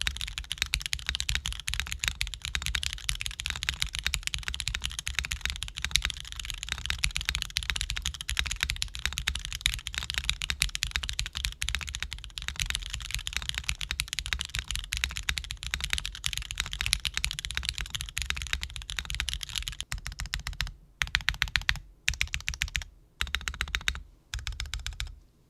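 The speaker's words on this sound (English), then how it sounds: "The switch I typically have in this board is an MK Purple Slush Linear, so this will be a far departure from what this typically sounds and feels like" Continuous rapid typing on a mechanical keyboard with MK Purple Slush linear switches: dense, even clacking that is close and clear, then breaking into short bursts with pauses before stopping, and no voices.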